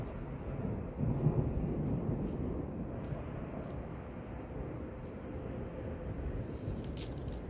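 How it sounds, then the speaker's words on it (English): Low, continuous rumble of thunder during a severe February thunderstorm in southeastern Pennsylvania, a steady broad roar that swells slightly near the start and rolls on without a break. "When there's like a bunch of lightning and thunder."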